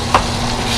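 A steady, dense sizzle of potatoes frying in hot oil, with one brief louder pop near the start.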